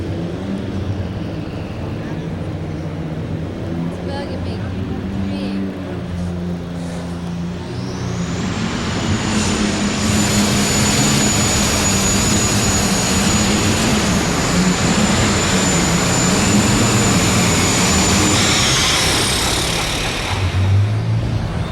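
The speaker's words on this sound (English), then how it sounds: "And the name of the tractor is Steel Dreams." A light super stock pulling tractor engine at a tractor pull roars and builds to a high, sustained scream, loud and close, with a crowd and announcer audible underneath.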